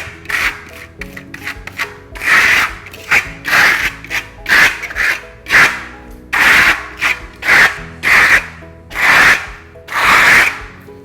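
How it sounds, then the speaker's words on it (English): A trowel scrapes rhythmically over a gritty decorative wall finish containing mica flakes, repeated rasping strokes about once a second, close and fairly loud. "What you hear is the trowel coming up against the mica flakes."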